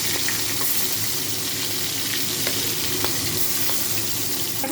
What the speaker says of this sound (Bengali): তেল গরম হয়ে গেছে মাছের মুড়োগুলোকে এগুলো ভেজে